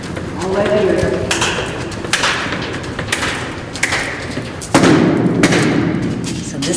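Several hard, hollow knocks land at uneven intervals as someone bangs on the wall of an old underground tunnel beneath Tulsa, Oklahoma, with people talking throughout.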